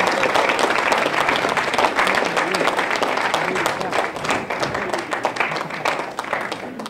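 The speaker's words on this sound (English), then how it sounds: "can you please give my team a huge round of applause." Sustained applause from a large audience at a product presentation, dense and loud clapping that holds steady throughout before easing slightly near the end.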